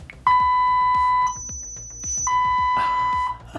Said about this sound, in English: it'll make a screeching sound at the end